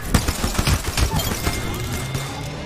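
Rapid distant gunfire in a gun roulette video game, a dense string of muffled pops and cracks at moderate loudness.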